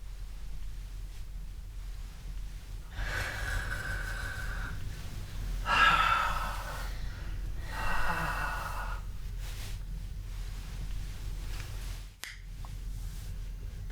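A child breathes in slow, airy rhythm, with several close, breathy exhales and sniffs spaced a couple of seconds apart over a low room rumble.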